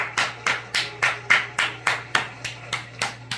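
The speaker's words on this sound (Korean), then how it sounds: "다시 한번 축하의 박수 부탁드립니다" A studio audience at a Korean student quiz show applauds the winner of a pre-match round, with steady, evenly spaced claps that sound fairly close and clear over a faint low hum, with no talking.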